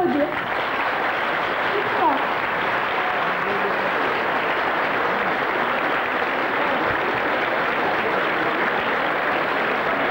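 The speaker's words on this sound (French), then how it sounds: "je propose maintenant de l'applaudir" Applause for a children's choir at a 1994 concert in France: a continuous wash of crowd clapping, steady and fairly loud for about ten seconds, with a faint voice briefly under it near the start.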